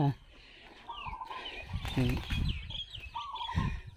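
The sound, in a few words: fighting roosters (game fowl) clucking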